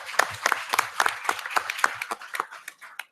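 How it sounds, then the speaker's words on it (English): A final round of applause for a panel at a climate-policy event, a modest audience clapping in distinct individual claps that start lively, then thin out and fade toward the end. "A final round of applause."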